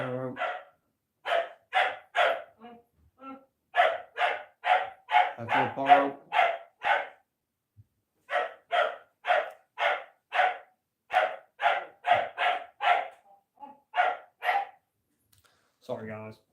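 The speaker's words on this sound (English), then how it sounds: "Sorry about the dog." A dog barks repeatedly in steady bursts at home during a live Premier League football match watchalong, loud and close, with a commentator's voice briefly heard between the barks.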